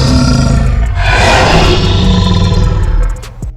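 A dinosaur call from the Dinosaur Simulator video game rings out, a loud, sustained roaring bellow with a rasping, breathy texture that holds for about three seconds before trailing off, heard alone without talk.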